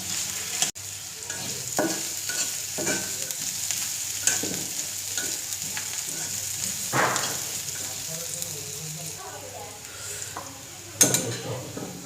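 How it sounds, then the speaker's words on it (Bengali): Crushed garlic fries gently in a pan over low heat, giving a steady soft sizzle with scattered scrapes and taps from stirring, plus a sharper clatter near the end. "এই রসুনটা কিন্তু অনেক হাই হিটে জাল করা যাবে না একদম লো হিটে জাল করতে হবে"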